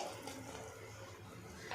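Water poured into a Mangalore-style cucumber sambar, a short, steady splashing pour heard alone at low level.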